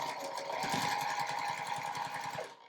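A sewing machine stitches binding onto a beginner charm-pack quilt, running with a fast, steady mechanical chatter at close range before slowing and stopping at the end.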